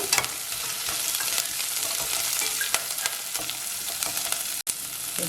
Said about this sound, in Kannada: ಈರುಳ್ಳಿನ ಒಂದು ನಿಮಿಷ ಈರುಳ್ಳಿ ಬಾತ್ಕೊಳ್ಳೋಣ